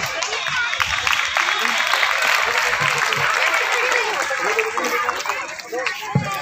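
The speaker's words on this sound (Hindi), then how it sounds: "जोरदार तालियां बच्चों" Loud, sustained applause from schoolchildren at an Independence Day school program, steady clapping filling the whole stretch without pause.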